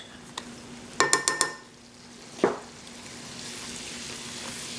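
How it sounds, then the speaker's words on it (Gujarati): Flour roasting in melted butter in a pan for a corn pie, a soft steady sizzle broken by a quick cluster of utensil clinks and a scrape, close. "આ લોટને આપણે ફાઇન રીતે આપણા બટરમાં શેકશું"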